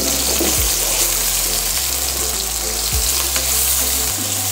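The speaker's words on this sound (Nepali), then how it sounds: "अब यसमा प्याज राख्न गइरहेको छु 200 ग्राम। अब यसलाई एकैछिन चलाउने" About 200 grams of onion dropped into warmed oil and stirred, a loud, dense sizzle running throughout with a low steady hum beneath and occasional scraping of the spoon.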